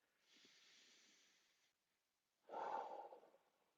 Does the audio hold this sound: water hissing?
no